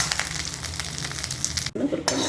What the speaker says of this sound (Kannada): ಕರಿಬೇವು ಎಣ್ಣೆ ಹಾಕಿ ಅದನ್ನು ಕೂಡ ಹುರಿಯಬೇಕು